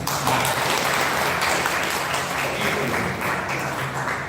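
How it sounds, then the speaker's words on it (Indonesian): Applause from an audience at an Indonesian community-organization discussion forum, a dense, steady wash of many hands clapping for about four seconds with a faint voice or two underneath. "Tepuk tangannya mana?"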